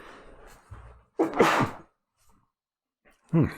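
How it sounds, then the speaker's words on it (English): A man sneezes sharply and loudly once, followed after a short pause by a second forceful sneeze or gasp, with soft breathing beforehand and no talking. "I got a sneeze coming"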